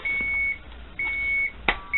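A 1999 Hess toy truck with a space shuttle gives out steady electronic beeps, long tones that repeat with short gaps, plus a click from a button being pressed partway through.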